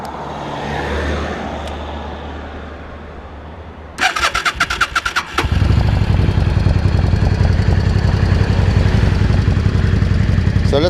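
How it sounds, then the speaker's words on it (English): Yamaha Dragstar 650 motorcycle cranking with a rapid stuttering starter burst, then catching and settling into a loud, steady, throbbing idle close by. "Let's start her up, see if she starts up."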